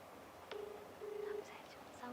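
A telephone call dialed on speakerphone: a few short electronic keypad tones beep in quick succession, quiet and close.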